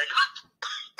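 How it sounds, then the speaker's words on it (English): A man coughs twice over a phone call, two sharp, close, muffled bursts with a brief gap between them. "It sounds shittier for a different reason now because he's coughing."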